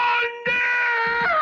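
Tuco, a character in the western film The Good the Bad and the Ugly, lets out a loud, sustained wailing scream, cut off briefly and then resumed with a falling cry near the end.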